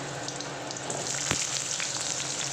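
Potatoes seasoned with salt and turmeric fry in a pan, giving a continuous close sizzle with a crackly hiss and small pops, plus one brief knock midway.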